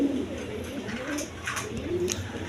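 Indian Bombay pigeons coo in low, repeated throaty calls over a steady background hum, with a few brief rustles and higher chirps.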